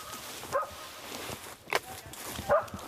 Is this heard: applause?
no